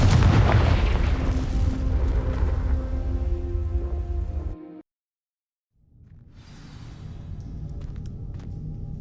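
Heavy booming blasts from Bombarda and Confringo spells in the Hogwarts Legacy video game, a dense roaring explosion that cuts to silence for a second, then another rumbling, crackling blast with debris.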